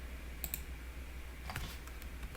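A few faint, crisp computer mouse clicks at a desk, pressing Calculate Estimate in AMOS statistics software, set against a quiet room hum.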